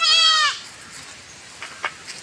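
A goat on a fenced farm lot lets out one loud, close bleat at the start, followed by quiet background with a few faint distant sounds.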